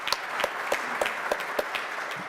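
Audience applause at a Mason City council meeting: many hands clapping in a steady, dense patter with a few sharper claps, fairly close.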